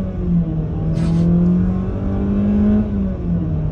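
A 2022 Jeep Compass Trailhawk pulls away hard from a standstill on an open road, its engine droning steadily and rising in pitch, loud and close throughout with no talk.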